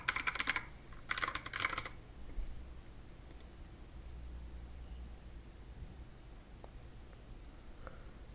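Fingers tap out a password on a computer keyboard in two quick bursts of close, crisp keystrokes, followed by quiet room noise with a few faint clicks.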